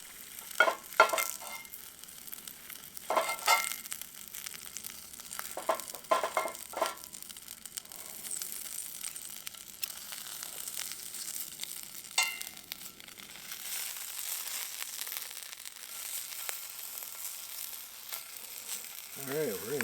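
Mushrooms, likely leek jacks, crisping in a pan over a propane firepit at a truck camp, giving a soft ongoing sizzle broken by scraping stir strokes and occasional louder bursts, with faint voices nearby.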